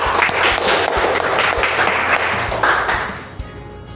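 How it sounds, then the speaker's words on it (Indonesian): Applause in a classroom, a steady wash of clapping hands that keeps up for about three seconds and then fades out. "kasih aplaus dulu"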